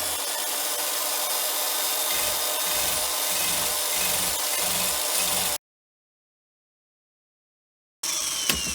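Hand scraping on the metal of a Fehlmann XY table, rhythmic rasping strokes close and moderately loud, then a silent gap before a brief return of noise.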